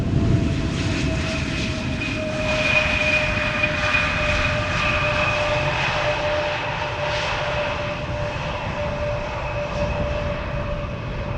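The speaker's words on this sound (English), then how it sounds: "I don't recall seeing a small prop plane like that land before." A small propeller plane lands at Amsterdam Schiphol Airport, its loud, steady engine drone carrying a clear whining tone as it passes at moderate distance, with no voices.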